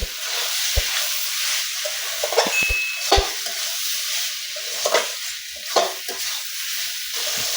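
Potatoes and mushrooms sizzle loudly in a pan for a Bengali mushroom kosha, with repeated scraping stirs of a spoon against the pan over a constant frying hiss.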